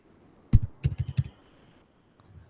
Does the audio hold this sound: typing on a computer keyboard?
yes